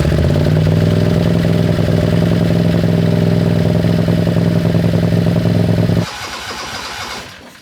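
A powerful methanol-fuelled turbo dragster engine roars loud and steady with a harsh, rumbling clatter, then stalls abruptly and leaves only a faint, fading rattle.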